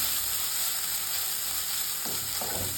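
Grated coconut frying and being stirred in a pan for Trivandrum chicken fry, a steady close sizzle throughout with a brief scrape of stirring near the end.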